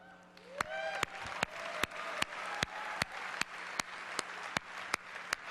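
Audience applause at the Xbox E3 2009 press conference, a steady wash of crowd clapping heard at moderate distance, punctuated by regular sharp percussive beats from the event music.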